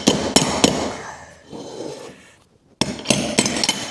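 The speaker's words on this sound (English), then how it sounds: "you're gonna use this tool to hammer this in" Sharp hammer taps strike in quick clusters as vinyl plank flooring is tapped into place with a tool, a pause with scraping and rubbing between, then another run of close, loud knocks.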